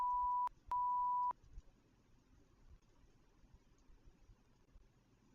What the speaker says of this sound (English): the beeping is that me or you?